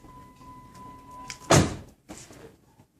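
A car door closes with a single solid thunk near the midpoint, followed by fainter rattles and shuffling, in a quiet setting where an auto glass installer is checking the window.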